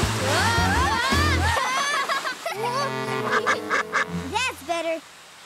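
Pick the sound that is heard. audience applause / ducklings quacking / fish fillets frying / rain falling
ducklings quacking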